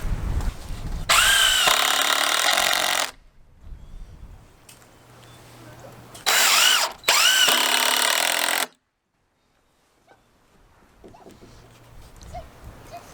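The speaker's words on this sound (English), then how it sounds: "I'm going to attach it with screws through the short wall into this one to really lock things together" A power drill drives 3-inch screws into the wall framing of a DIY greenhouse in two loud, close bursts, the first about two seconds long and the second broken by a short pause, with quieter handling noise between.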